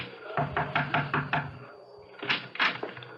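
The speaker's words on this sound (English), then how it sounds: "I crossed the driveway, rapped on the door." Five firm raps on a door in a quick, even run, followed by a brief pause and two heavier thuds, close and clear in a quiet room.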